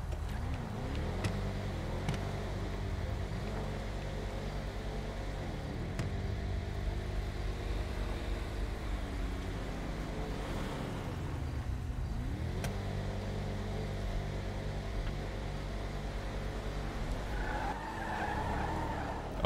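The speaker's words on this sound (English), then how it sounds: "Freaking truck drag racing." Trucks drag racing in a video game, with a steady loud engine drone and repeated tire skids and squeals running through throughout, ending with a faint burst of other game noise.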